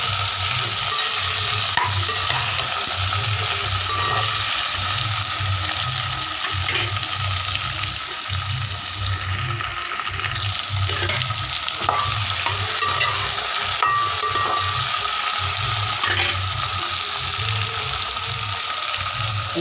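Half-cooked cowpea (karamani) curry stirred and frying in a pan: a steady close sizzle with repeated scraping stirs of a utensil throughout, no talking.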